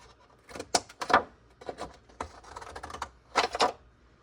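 Scalloped-edge pinking shears cutting small pieces of paper, giving several close, crisp snips in quick irregular bursts with quiet gaps between.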